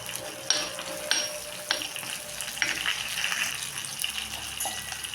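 Curry leaves hiss and crackle as they hit hot oil with sautéed okra and onions for a fish kulambu, a steady close sizzle with scattered pops and no voices.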